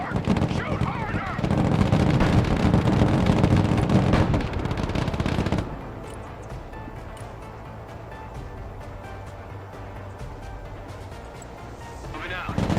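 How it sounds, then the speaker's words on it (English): Gunfire and battle noise from the Broken Arrow video game, a dense loud stretch of shooting and explosions for several seconds that drops to a quieter rumble, with game voices speaking throughout. "We're under fire!"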